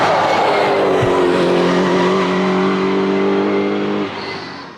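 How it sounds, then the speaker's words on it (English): A Lexus LC500 endurance race car with a twin-turbo V8 roars loudly past at racing speed, its engine note rising then dropping away as it recedes, with no voices. "I can't tell definitively from this sound clip if it's a twin turbo V8"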